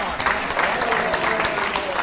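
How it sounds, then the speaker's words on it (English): A school audience at a middle school event breaks into a round of applause, a dense, steady patter of clapping hands that holds for about two seconds with a little crowd murmur mixed in. "Can we get a round of applause for that?"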